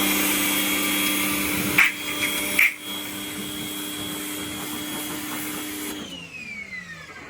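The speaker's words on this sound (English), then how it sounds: "So right now I just gotta prime the" A pressure washer primes in a mobile detailing setup, producing a steady mechanical whine and hum with a couple of short, sharp clunks midway before the motor winds down and stops near the end.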